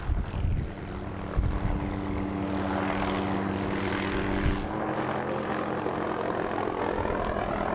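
A reconnaissance helicopter flies far offshore over the sea, its steady engine and rotor drone filling the background at moderate loudness without speech.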